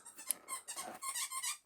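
A dog works a squeaker toy in a run of quick, faint, high-pitched squeaks, close by in a quiet room.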